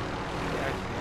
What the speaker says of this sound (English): Yes, it's inbound. A helicopter!